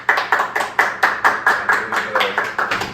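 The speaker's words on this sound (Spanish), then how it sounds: "José Roberto Quiroz Cardona, para quien nos pido un fuerte aplauso también." Hands clapping in a steady rhythm for a guest speaker, a series of about a dozen evenly spaced, sharp claps, fairly close and loud, with no talking over them.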